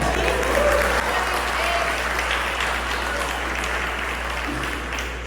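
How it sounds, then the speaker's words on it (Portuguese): A church congregation claps together in a long, even round of applause, full and steady throughout and easing slightly in volume toward the close. "Vamos aplaudir ao Senhor pela vida de Gilberto, irmão."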